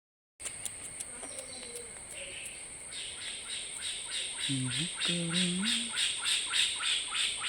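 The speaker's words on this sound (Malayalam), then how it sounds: "നമുക്ക് ഈ കിളികളെയൊക്കെ സൗണ്ട് കേട്ടിട്ട്" Outdoors, birds give a few short chirps and calls over a rhythmic, pulsing insect trill that grows louder toward the end.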